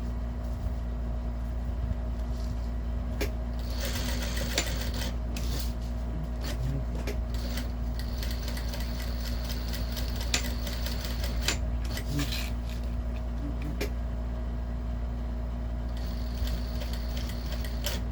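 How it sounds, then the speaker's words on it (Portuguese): A sewing machine stitches a small square to secure a strap on a Kombi-style lunch bag, a steady mechanical whir with intermittent clicks and knocks over a constant low hum. "Aí você faz a costura do quadradozinho aqui para segurar a alça."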